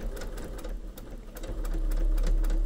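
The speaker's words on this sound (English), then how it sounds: "And then I will simply stitch to the end" A sewing machine stitches a pieced quilt block for a sewing machine mat, a steady rapid whir with dense needle ticks running close and clear, growing slightly louder toward the end with no talk.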